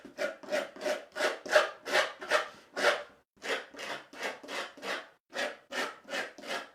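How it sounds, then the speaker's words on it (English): Stiff stencil brush scrubbing ink around stencil edges in a repeated sanding-like rasp, about fifteen rhythmic strokes, close and fairly loud, with a short pause midway and no talk. "I come in sounding like I'm sanding down the stencil"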